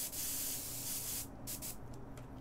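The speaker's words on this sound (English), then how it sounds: "spray it out, and then use some cleaner after that to get it really nice and clean" Airbrush being sprayed out with cleaner, a steady hissing burst of air lasting over a second before cutting into a few shorter, softer puffs, close and fairly quiet.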